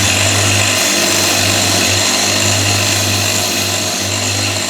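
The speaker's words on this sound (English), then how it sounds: "I'd also like to see how it grinds, since I've seen some videos online where it sparks similar to titanium." A power grinder works a zirconium knife part, a loud steady whine and abrasive roar that runs without a break, with faint pulsing in the low hum.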